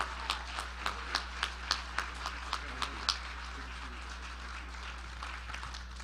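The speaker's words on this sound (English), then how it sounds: "let's give them a great round of applause." An audience claps for newly installed officers at an inaugural night, a sparse run of distinct, fairly sharp claps over a low steady hum, fading out after a few seconds.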